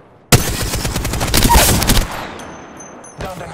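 Automatic weapon fire in Apex Legends: a sudden loud burst of rapid, evenly spaced shots lasting under two seconds, then a brief lull before another sharp sound, with no talk over it.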